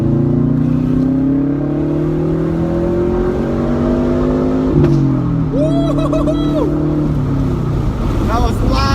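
A 2012 Subaru WRX hatchback accelerates hard with the windows down, its loud engine drone climbing in pitch through the gears while a person whoops excitedly over it.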